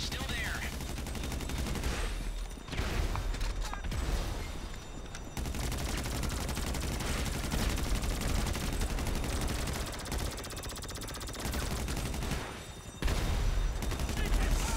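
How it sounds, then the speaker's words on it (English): Dense, continuous rapid gunfire and booming explosions from GTA V, loud and chaotic with brief pauses, a voice faintly mixed underneath. "All right, do the explosions again."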